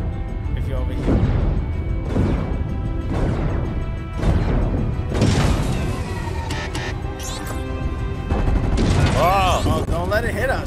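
Bursts of ship-mounted weapon fire in Fortnite during a collision event, rapid and loud in several volleys over music and effects, with people talking excitedly over it.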